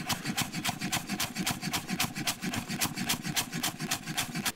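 A knife saws back and forth through a food roll in a kitchen, giving a steady run of quick, close rasping strokes with no talking.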